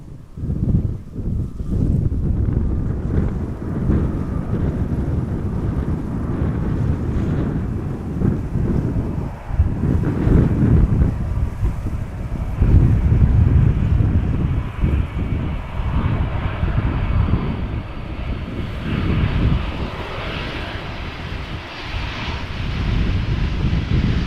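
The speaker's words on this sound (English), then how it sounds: "A321 British Airways, arriving from London Heathrow." A British Airways A321 arriving at Amsterdam Schiphol from London Heathrow gives a loud, sustained jet engine roar that builds and holds for the whole stretch, with wind buffeting the microphone.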